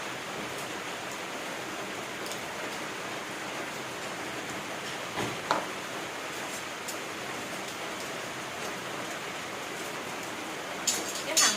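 Steady rain falls on a rainy day, a continuous even hiss with a couple of faint knocks and clatters near the end, no voices.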